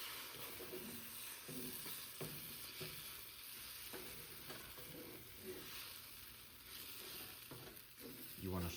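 An egg frying and being stirred in a pan at breakfast, giving a steady soft sizzle with light scraping strokes throughout, no talking.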